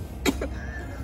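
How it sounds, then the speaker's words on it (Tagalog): A single short, husky cough bursting out once and stopping abruptly, resembling a small dog's bark, with a faint voiced after-sound and low room hum around it. "Ang cute yung umubo, parang aso."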